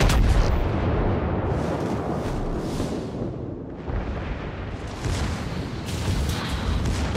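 Naval guns firing in World of Warships during an Arizona battleship battle, a dense rumbling roar of heavy booms and blasts that swells and briefly dips midway, loud and continuous with no talk.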